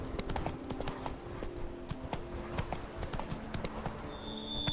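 The horse Roach trots in The Witcher 3 with a steady, rhythmic clip-clop of hooves that stays fairly quiet and even throughout, with no voices.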